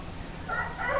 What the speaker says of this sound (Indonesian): kalau di sini ada suaranya ayam dan semacamnya karena dekat dengan sawah